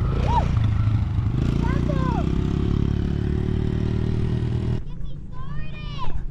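A small dirt bike engine running loud and close at a family desert outing, a steady buzzing drone that drops off near the end, with people talking over it.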